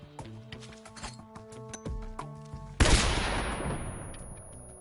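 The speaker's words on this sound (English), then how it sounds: "So we're going to blind them with 2 stun grenades thrown." Two stun grenades in the video game Metal Gear Solid 3 go off, with scattered clicks and game sounds leading into a sharp loud burst that decays into a hissing, crackling wash.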